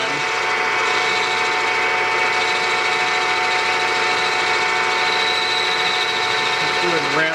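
A metal lathe steadily cutting a chuck backing plate, with a continuous whining hum from the motor and cut running close and loud, and someone speaking briefly over it.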